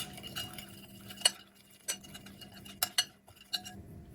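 A spoon clinks against a bowl while mixing oil and Kashmiri chili powder, with several sharp, separate taps spread over a quiet background hum.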